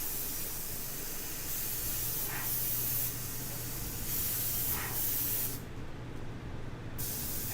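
Continuous airbrush hiss spraying Purely Pigments paint onto black, close up, with a couple of brief bursts in the flow and one short pause near the end.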